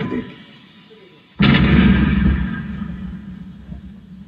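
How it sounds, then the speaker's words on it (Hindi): Mughal cannons fire in a sound effect: a sudden loud boom after a quiet stretch, followed by a long rumbling echo that slowly fades. "दाईं तरफ से पीछे मुड़ के देखें तो उनकी तोपें दिखाई भी देंगी और सुनाई भी देंगी।"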